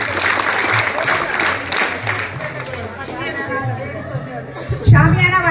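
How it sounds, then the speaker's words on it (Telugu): An audience at a school parent-teacher meeting claps together in a steady, dense burst of applause, mixed with crowd chatter and some talking throughout. "వాళ్ళకి ఒకసారి గట్టిగా క్లాప్ చేయండి"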